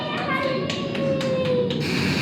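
Small children clapping hands after a simulator ride, a few sharp, uneven claps close by while an adult and kids talk over them.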